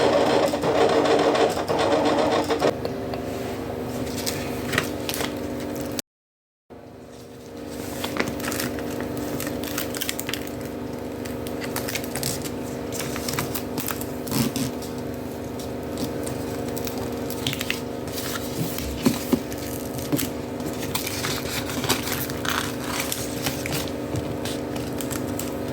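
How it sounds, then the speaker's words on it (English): A Silhouette cutting machine cuts a printed image along its cut line with a steady mechanical whir and buzz and small clicks, near and continuous apart from one brief pause. "if the registration mark is well read, the image should be cut perfectly at the edges using the cut line"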